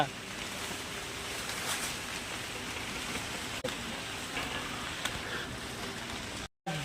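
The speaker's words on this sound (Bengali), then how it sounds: "প্রচুর বৃষ্টি শুরু হয়ে গেলো" Heavy rain pours in hilly country near the Bhutan border, a steady dense hiss that fills the whole stretch, with a brief dropout near the end.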